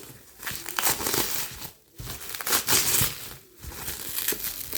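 Crinkly plastic or paper packaging being torn and pulled open to unwrap a book, a busy run of crackling rustles and scrunches with brief pauses, close and fairly loud.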